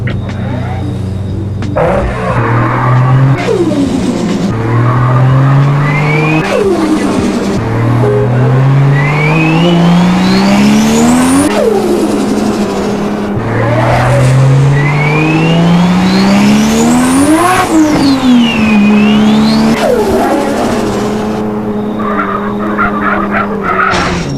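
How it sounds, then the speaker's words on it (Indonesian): Loud video game car engine from GTA San Andreas style FiveM, revving up and down repeatedly, with rising pitch sweeps and tire skids squealing throughout, continuous and close, like an arcade racing car. "Nah, jadi untuk mobil sekali ini suaranya kayak gini."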